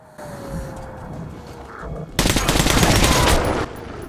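Assault rifle gunfire in Metro Last Light Redux: quieter background ambience, then a sudden loud, rapid burst of close automatic shots lasting over a second before cutting off.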